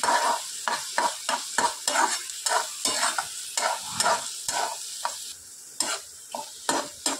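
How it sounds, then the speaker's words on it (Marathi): Egg bhurji with onions is stirred in a frying pan, a rhythmic scraping of the utensil against the pan repeating quickly over a steady sizzle, close and fairly loud. "सारखं असं हलवत राहायचं आहे, म्हणजे ती चांगली सुट्टी होईल"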